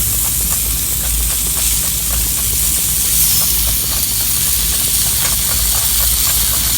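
A hand pump forces air at an outdoor bonfire gathering in the mountains, producing a loud, steady rushing hiss with faint rhythmic pulses from the strokes and no voices.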